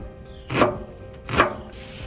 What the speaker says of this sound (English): First thing we're going to do is chop up the onions.